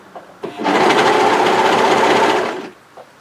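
A serger overlocker whirs in one continuous, loud, fast burst as it stitches a dress side seam, starting and stopping cleanly with soft handling clicks before and after.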